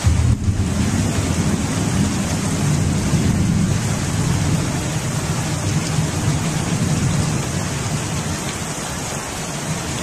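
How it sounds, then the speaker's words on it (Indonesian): Steady rain pours down under an overcast sky, a dense, constant hiss with a low rumbling wash filling all ten seconds, loud and close, with no voices. "Nah, hujan."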